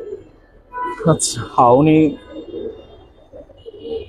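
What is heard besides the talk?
pigeons cooing in a loft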